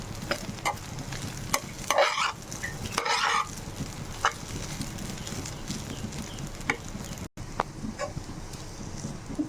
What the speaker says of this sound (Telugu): లో ఫ్లేమ్లో పెట్టుకొని అన్నం చాలా వేడెక్కేదాకా ఇలాగా ఫ్రై చేసుకుంటూ ఉండాలండి